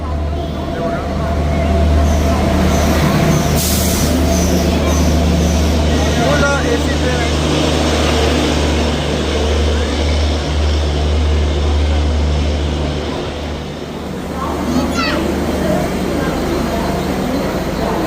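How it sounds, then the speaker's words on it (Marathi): A heavy express train rumbles steadily close by as it arrives at a station, with a low droning engine hum, and a voice talks briefly over the noise. "फायनली माझी ट्रेन आलेली आहे"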